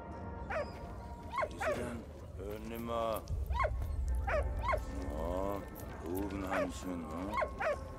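A dog in the World War I video game Valiant Hearts barks in a run of short, sharp yips and woofs, repeating every second or so at close range while a person talks over them.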